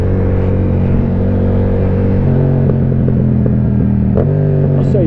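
A Yamaha R7 motorcycle engine runs close and loud with a steady low rumble, shifting pitch a couple of times as it revs and settles, under some wind noise.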